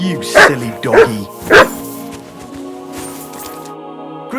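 Three loud, close dog barks in quick succession in Kingdom Come: Deliverance 2, followed by a lower murmur of background sound with no further barking.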